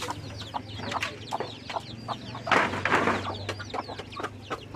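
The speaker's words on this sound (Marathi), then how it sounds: "पूर्ण व्हाईट कोंबडी आपली" A white hen clucks in a backyard flock with young chicks, with repeated short calls and chirps over steady low background hum, plus a louder burst of flapping or scratching near the middle.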